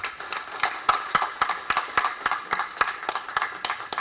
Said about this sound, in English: If I may kindly ask you to give this opportunity A round of applause